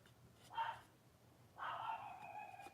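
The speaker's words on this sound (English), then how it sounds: "Oh, I'm sorry about Todd barking." A dog barks indoors, two separate muffled barks about a second apart, moderately loud against a quiet background.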